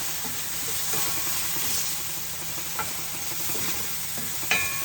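Garlic and onion sauté in a pan for a home-cooked Valenciana, a steady close sizzle with occasional stirring scrapes and a sharper clink near the end.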